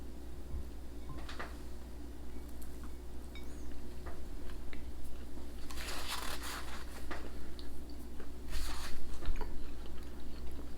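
Someone chews a slice of Yorkshire brack topped with cheese close up, with soft, irregular biting and mastication noises and occasional louder crunchy bursts over a low steady background hum.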